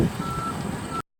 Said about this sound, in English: Dump truck number 3.